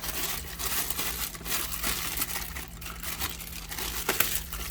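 Clear plastic packaging for a GoPro 9 crinkles and rustles as it is handled, a continuous close-up crackle with small sharper crunches and no speech.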